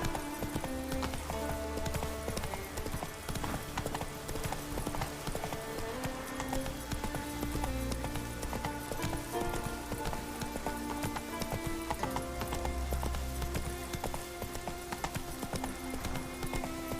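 Steady clip-clop of the horse Roach's hooves in The Witcher, an unbroken rhythmic trot that runs the whole way through over a dense layer of game music.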